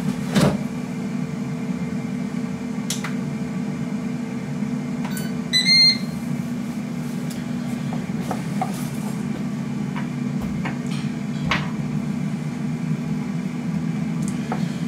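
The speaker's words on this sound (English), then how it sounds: "I'm going to just put those on to air fry for" An air fryer runs with a steady, even mechanical hum throughout, joined by a few faint clicks and a brief cluster of higher beeps partway through.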